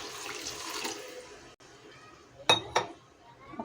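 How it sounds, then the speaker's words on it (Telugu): Water poured into a pan of potato and tomato curry, a soft splashing pour early on, then a few sharp clinks of a utensil against the vessel, fairly faint and close. "ఇందులోనే కొద్దిగా వాటర్ పోసుకుందామండి."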